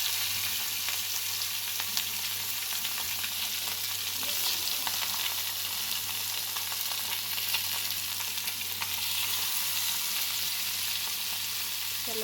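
Fish fries in a hot pan with a continuous soft sizzle and faint crackle, steady and even throughout, with no voices.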